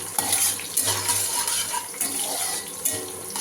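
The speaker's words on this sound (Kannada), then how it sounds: "ಸೊ ಹಸಿರು ಮೆಣಸಿನ್ಕಾಯಿ ಹಾಕ್ತೀನಿ ಫಸ್ಟೇ." Green chillies frying in hot oil in a home kitchen, a steady dense crackling sizzle with small bursts and pops throughout, fairly close and loud, with no talking.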